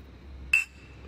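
Glass bottles clinked together in a toast in Chile: one short, bright clink that rings briefly and stands alone against an otherwise quiet room.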